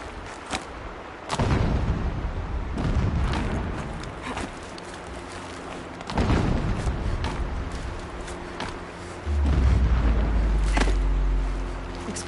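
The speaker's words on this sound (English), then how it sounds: "Explosions in the distance." Deep booms from distant explosions in Horizon Zero Dawn roll out in several separate heavy thuds with rumbling tails, set against a quiet game soundscape.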